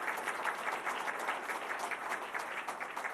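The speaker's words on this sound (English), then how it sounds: "let's give her a round of applause" An audience at an Army medical conference breaks into steady applause, a dense wash of clapping hands at moderate distance with no talking over it.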